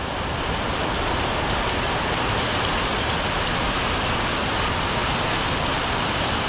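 Steady, heavy rain pours continuously outside a hotel room in Malaysia, a dense hiss with faint traffic rumble beneath and no voices.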